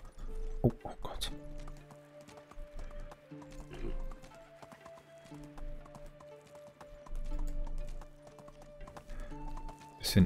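Rhythmic hoof beats of a galloping horse in the medieval life-sim game Medieval Dynasty, steady and close, over sustained tonal game music with brief louder knocks.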